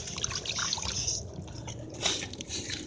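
Water runs from a tap that had been frozen, a steady, fairly loud splashing trickle with no voices over it.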